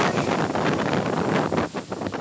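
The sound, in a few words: gusty wind during Cyclone Amphan on the coast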